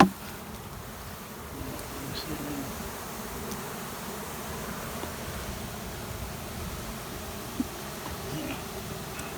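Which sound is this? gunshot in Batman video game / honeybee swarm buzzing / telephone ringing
honeybee swarm buzzing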